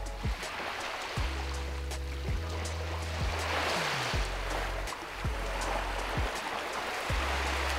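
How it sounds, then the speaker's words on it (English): Small waves break on a remote beach in Everglades National Park at night, a steady wash of surf with low rumbling swells, fairly faint and continuous with no talking. "The waves are breaking on the beach."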